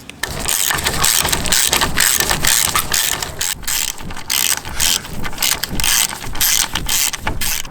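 A wrench works the 5 mm hex bolts on the plastic cover of a Suzuki V-Strom 800 during a center stand install, with loud close rapid ratcheting clicks in bursts and short pauses.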